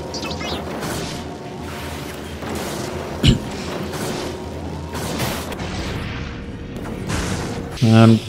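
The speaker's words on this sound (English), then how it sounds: "You can see here I'm throwing 4 different bombs at the same one" Hellfire incendiary bombs burst in the PS4 game Helldivers: a loud thudding blast near the middle, then a heavier boom at the end, over a dense bed of game noise and mechanical rumble.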